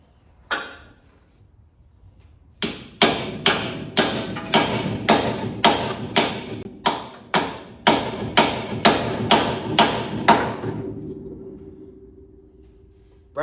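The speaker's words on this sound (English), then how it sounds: "Brass hammer, you still don't want to beat on it." A brass hammer strikes metal in a steady run of about fourteen sharp, evenly spaced blows, then a faint metallic ring fades out.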